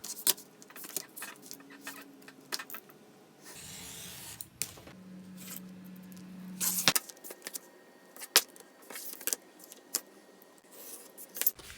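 Leather is cut out along a wallet bill-pouch pattern, giving scattered close scrapes, snips and clicks with soft rubbing, a few longer drawn cutting strokes in the middle, and no talk.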